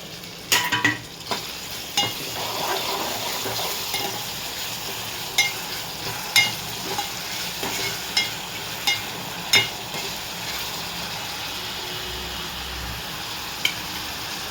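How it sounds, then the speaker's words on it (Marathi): Tomatoes with salt cook and get stirred in a pan for a chicken rassa, giving a steady sizzle with repeated sharp scrapes and clinks of the spoon throughout. "टॉमॅटो छान शिजवून घ्यायचा"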